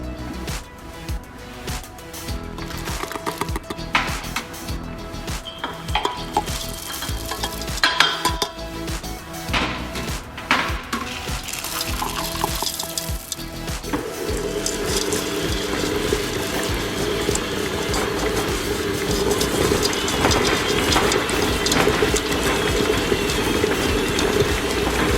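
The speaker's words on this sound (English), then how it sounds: "I'm just going to mix them in for literally under 20 seconds, just till everything is completely evenly distributed" Dried sour cherries being worked into pistachio and white chocolate cookie dough by an electric mixer, a steady whirring motor drone with thick churning that grows fuller and louder toward the end, no voices.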